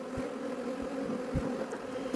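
Honeybees buzz at an open hive during sampling for foulbrood testing, a soft steady hum of many wings with a few brief louder passes of individual bees close by.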